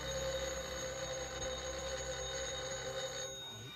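An old bell telephone in a 1955 film rings continuously at a steady volume, then cuts off shortly before the end.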